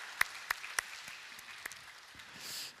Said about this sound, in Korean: 다시 한번 재미난 연극을 해주신 스토리나이츠께 감사의 박수 보내주시면